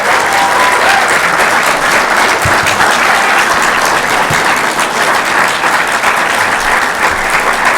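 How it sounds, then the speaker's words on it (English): An audience at a sports hall of fame ceremony gives inductees a long, loud, steady round of applause, dense clapping throughout with no break. "Let's give these guys a big round of applause."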